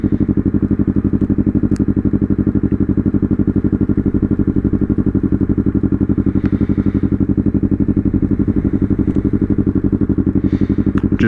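A slow motorcycle being ridden in central Vermont gives a steady, loud, dense engine drone with constant rapid pulsing, close and unbroken, with faint clicks and wind over it and no talking.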